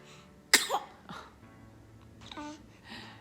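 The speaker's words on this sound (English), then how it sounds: "Your sneezes are so cute." A small, sharp sneeze bursts out, followed by a few softer breathy sounds and little squeaks, all quiet and close.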